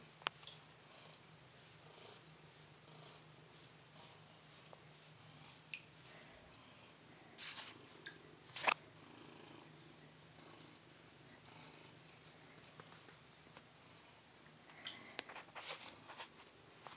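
A cat purring in the bath, a low steady faint rumble running through the whole stretch, broken by a few brief splashy bursts of water movement midway and near the end.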